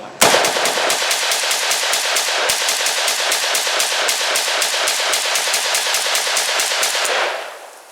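An SLR106CR, a 5.56 AK74-pattern rifle, fires a long rapid string at the range. Sharp, loud reports come in quick steady succession for about seven seconds before they stop.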